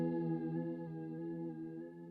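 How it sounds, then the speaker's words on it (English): A Walrus Audio Slöer reverb pedal with modulation gives a sustained, shimmering chord with a gentle wavering chorus-like swirl. The tone holds steady and fairly full throughout, with no talking. "if you do have modulation, you can change the depth of it with the depth knob"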